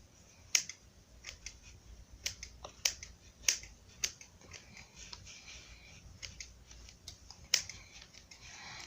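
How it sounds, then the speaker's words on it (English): Scissors snip through very thick foam in a quiet room, making a series of sharp, crisp cuts at irregular intervals, with slight rustling between them. "So this is really thick foam, so it's really hard to cut."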